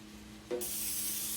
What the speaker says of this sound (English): We're just going in with good old pan cooking spray.